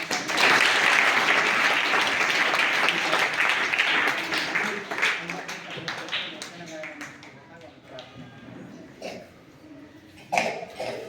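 An audience applauds in a hall to welcome visiting officials, a dense burst of clapping at first that thins into scattered claps, coughs and murmurs, then a last flurry of claps near the end.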